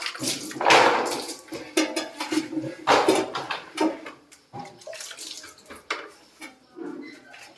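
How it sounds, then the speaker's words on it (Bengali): Water is poured onto floor tiles in bursts, splashing and spreading with a few sharp wet slaps between quieter trickles. "এই টাইলসে এইভাবে জল দিয়ে দেবেন।"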